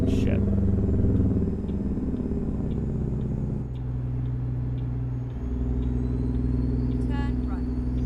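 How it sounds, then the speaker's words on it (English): Truck engine in American Truck Simulator, a steady low drone and rumble throughout, with a brief rise partway through and a few faint interface tones near the end. "listening to that engine drone for 10 or 11 hours straight every single day"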